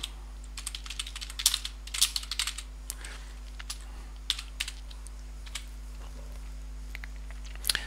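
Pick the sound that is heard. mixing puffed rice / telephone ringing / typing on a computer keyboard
typing on a computer keyboard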